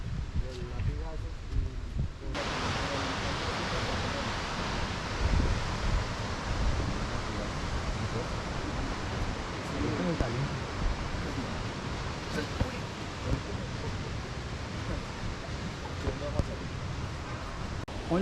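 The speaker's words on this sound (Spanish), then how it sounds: "Hoy nos encontramos en la cascada La Chorrera" La Chorrera waterfall near Bogotá, a steady broadband roar of falling water that swells after the first couple of seconds and holds loud and continuous throughout, with no one talking.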